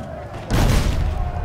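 A cannon fires in the video game Risen 3, a single heavy boom that bursts out suddenly and rumbles on amid game background sound.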